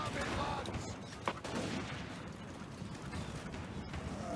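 Dwarf Thunderer handguns firing in a Total War: Warhammer II battle, with scattered cracking volleys, one sharper report near the middle, all blended into a dense, continuous din of battlefield noise.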